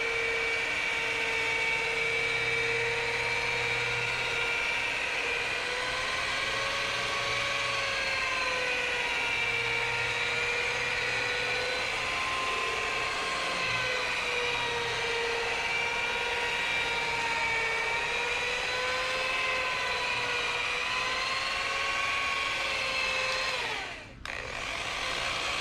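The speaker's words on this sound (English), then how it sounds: "Polisher do the work." A rotary polisher runs steadily during a two-step car paint correction, with a continuous whirring whine that rises and falls slightly in pitch as pressure changes, ending in a brief dip near the end.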